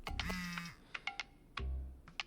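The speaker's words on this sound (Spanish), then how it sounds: "coger el teléfono." A phone rings in the video game Thirsty Suitors, giving short electronic tone bursts with tonal chimes and low hums that repeat in a quick, irregular pattern, close and clear with no talking.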